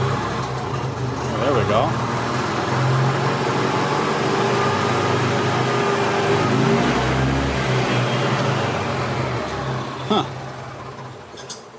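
A 2001 EZGO TXT gas golf cart with a stalling fault has its engine running with a steady, close, droning rumble throughout, under brief spoken remarks.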